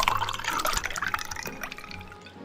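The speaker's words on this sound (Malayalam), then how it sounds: "Mama's going to pour some water." Water pours and splashes into a cooking mix for a couple of seconds, close up and fairly loud, with trickling and dripping that thin out toward the end.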